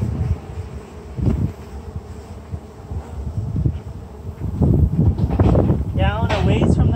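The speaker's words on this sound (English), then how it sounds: "The bees will fly back to their hive over the course of the next couple hours" Honey bees flying around a hive outdoors while honey is being taken, a soft buzzing drone under wind noise and rustling handling sounds, louder toward the end.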